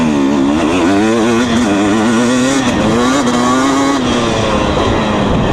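A 2020 KTM 250 SX dirt bike engine while riding, a loud, close, buzzing two-stroke note rising and falling with the throttle throughout.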